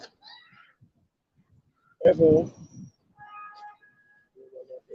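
A house cat lets out one clear meow, then a couple of softer mews, among sparse sounds and quiet stretches in an indoor room.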